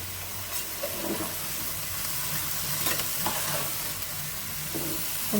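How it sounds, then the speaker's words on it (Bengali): Chopped mixed vegetables dropped into hot oil with panch phoron, a dense continuous sizzle and hiss with occasional stirring scrapes, close and steady, no voices. "এই তো সবজি কেটে দিয়ে দিচ্ছি তেলে পাঁচফোড়ন গরম দিয়ে"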